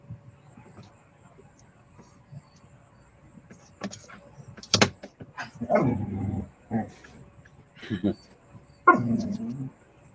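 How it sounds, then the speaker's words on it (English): A dog barks and fusses in a few short bursts, some nearby and loud, between quieter stretches indoors with faint background hum. "I hear a dog."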